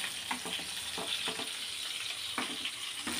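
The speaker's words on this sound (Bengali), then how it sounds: "এই যে ভাজা বসিয়ে দিয়েছি আমি মাছ" Fish frying in a pan for a Bengali fish-and-potato curry, a steady close sizzle with short crackling spits and bursts of stirring, heard alone without talk.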